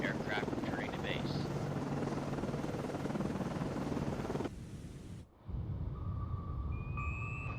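A Seahawk helicopter in the Cold Waters naval video game, with a loud, steady rotor whir that cuts off abruptly and gives way to quieter ambience with electronic tones. A voice speaks over it.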